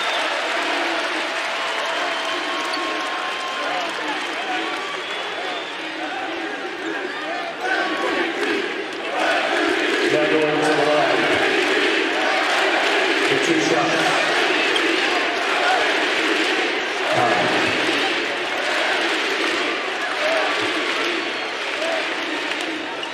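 An NBA arena crowd at a Mavericks–Kings game applauds and cheers steadily, swelling louder partway through and holding a broad, roaring wash, with commentators' voices faintly underneath.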